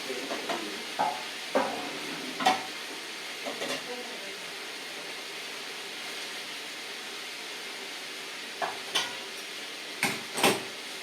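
Cluster beans sauté in a pan, a faint steady sizzle broken by several sharp spatula scrapes and clinks against the pan, with occasional talk in the background.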